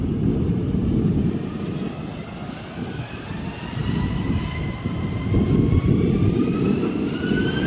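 A Wizz Air passenger airplane passes overhead near an airport, making a loud continuous jet roar with slowly rising whining tones that holds steady throughout, with no talking.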